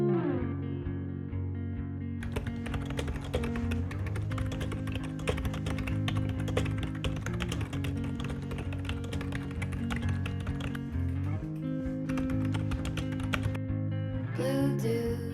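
Computer keyboard typing while a novel is written, rapid steady clicking of keys running almost continuously under a loud sustained music bed with a warm, droning tone.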